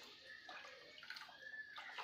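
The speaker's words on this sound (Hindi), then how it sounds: "अब इसमें पानी डालेंगे थोड़ा थोड़ा करके, आप अपने हिसाब से पानी डाल सकते हैं।" Water poured a little at a time into a pan of cauliflower kofta curry gravy, a steady splashing trickle with a couple of louder gushes and no talking.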